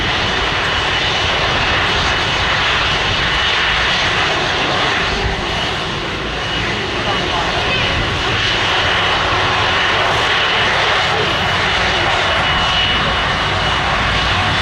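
A Virgin jet airliner inbound from Orlando lands in a crosswind at Manchester Airport, its engines a loud, steady, broadband roar that fills the whole stretch without pause.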